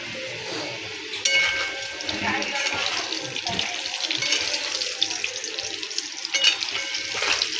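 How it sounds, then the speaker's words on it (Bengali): Potatoes frying in a pan for a mutton curry, a continuous watery sizzle with occasional clinks and scrapes, close and moderately loud throughout. "আলুটা ভাজা হচ্ছে।"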